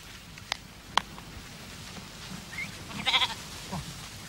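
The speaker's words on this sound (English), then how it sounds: "From mid-June onwards, the sheep are rounded up for shearing." Sheep rounded up for shearing on a farm, giving a few faint distant bleats over low steady background noise, with some brief knocks and clicks.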